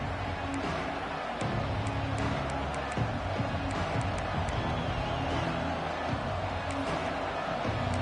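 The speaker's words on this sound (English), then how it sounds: "this crowd is buzzing after that last score" A stadium crowd in a Georgia Tech vs Arkansas college football video game, a dense, steady roar of noise with scattered sharp clicks over it and no break.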